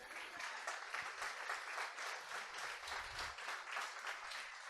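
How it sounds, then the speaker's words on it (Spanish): A church congregation at a Sunday service claps together in steady, rhythmic applause, a dense even patter of many hands continuing throughout at moderate volume. "Démosle un aplauso al Señor por eso."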